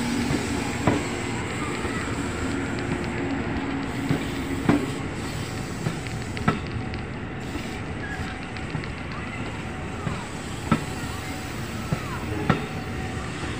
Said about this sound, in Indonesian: Dari ini KRL tujuan Stasiun Angke. Persiapan masuk ke Stasiun Matraman.